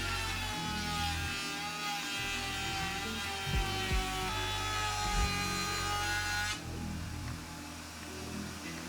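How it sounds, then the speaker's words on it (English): A power router cutting chamfer details and a rabbet into wooden frame boards, a loud steady whine with a low droning hum that shifts slightly under load, then eases near the end. "I routed out some chamfer details and cut a rabbet into the innermost board"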